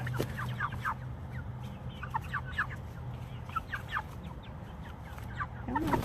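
Chickens cluck and call on a farm, with many overlapping birds close by and further off, over a steady low hum.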